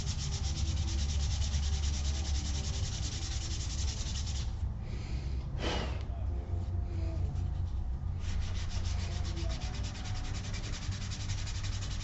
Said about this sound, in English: So I've got some 320 grit sandpaper here, and I'm just going to carefully sand just that edge.